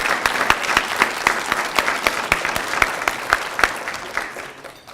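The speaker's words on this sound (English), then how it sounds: "Let's give ourselves a round of applause for looking so beautiful tonight." Guests at the 2014 Indiana TRIO banquet, celebrating 50 years of Upward Bound, applaud in a full, steady wash of clapping with crisp individual claps popping through, tapering slightly toward the end.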